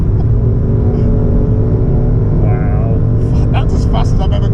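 A 2020 BMW M440i xDrive takes a fast corner at close to 130, its engine and road roar forming a loud, steady rumble throughout, with brief higher-pitched squeals or noises near the end.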